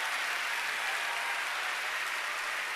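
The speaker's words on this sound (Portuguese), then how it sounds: "Vamos aplaudir ao Senhor!" A church congregation at a Baptist Sunday morning service applauds steadily, a dense, even roar of clapping from a large group with no voices heard.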